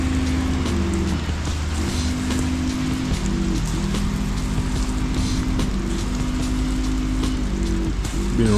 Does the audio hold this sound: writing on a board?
no